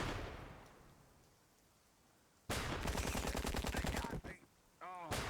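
Suppressing gunfire in Empire of Sin, a loud rapid burst of repeated shots that starts abruptly after a quiet stretch, stops briefly, then returns with a clatter near the end.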